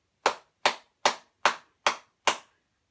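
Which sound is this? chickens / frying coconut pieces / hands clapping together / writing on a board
hands clapping together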